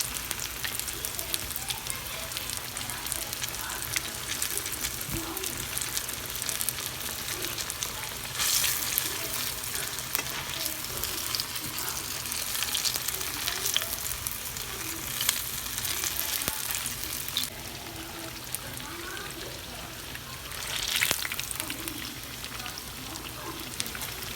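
Jamaican saltfish fritters frying in a pan of oil, giving a continuous close, crackling sizzle with small bursts and steady texture throughout, no voices.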